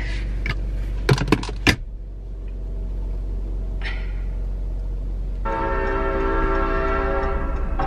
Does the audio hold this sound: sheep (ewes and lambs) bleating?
no